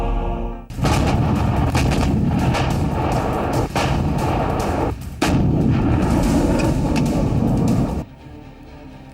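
Heavy M777 howitzer artillery fire booms continuously, loud and dense, with repeated deep blasts and rumbling echoes that overlap and then cut off abruptly.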